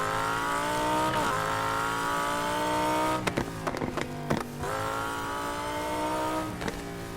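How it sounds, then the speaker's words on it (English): Supercharged 1965 Ford Mustang in the racing game Need for Speed Heat, its engine droning steadily with a harmonic whine, then a stretch of sharp crackles and pops before it settles back into a sustained roar. "It just sounds so good with that supercharger, though."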